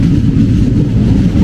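Chakradharpur Express running between Howrah and Purulia, a steady low rumble of the moving train with continuous rolling and clatter, loud and close throughout without pauses.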